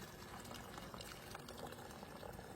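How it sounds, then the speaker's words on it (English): Hot water poured into a freeze-dried food pouch set inside a thermal bag at a camp, a faint continuous liquid rush and gurgle running steadily throughout without pause. "We're going to pour that right into the bag."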